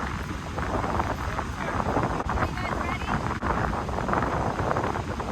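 Strong wind buffets the microphone at a beach campsite on Long Island, a continuous rough roar with gusty swells and a low rumble, and a voice talks faintly underneath.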